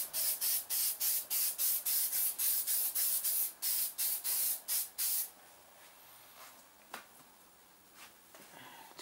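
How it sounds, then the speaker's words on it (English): A spray can sprays paint inside a closed garage in about fifteen quick, rhythmic hissing bursts, close and loud, followed by near silence broken by a few faint clicks and taps. "Spray painting with the doors closed."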